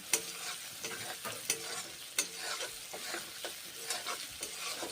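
Onions frying in a pan for a fritter and pointed gourd curry, a steady close sizzle with a few sharp spoon scrapes and clinks scattered through it.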